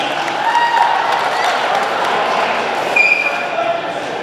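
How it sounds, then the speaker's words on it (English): Applause from a banquet audience at a speedway awards dinner held in a stockyards hall, with steady, dense clapping filling the room and voices mixed in. "A big round of applause for those guys donating their efforts tonight"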